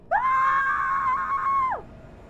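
A single long, loud scream from a woman or girl in pain, rising sharply, holding a steady pitch for nearly two seconds, then sliding down and cutting off.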